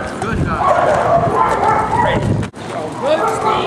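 Dog barking and yipping during a training session, with quick excited barks and whimpers close by, mixed with people talking throughout.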